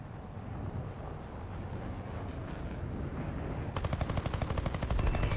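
Aircraft machine guns fire in a jet combat game featuring the M.D. 452 Mystere IIA. A steady engine and wind roar builds, then a rapid, evenly spaced burst of gunfire cuts in for the last couple of seconds, loud and close.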